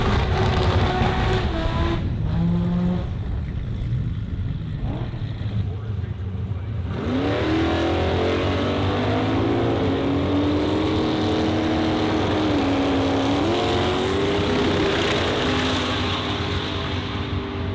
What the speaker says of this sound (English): we just witnessed the fastest pass of drag challenge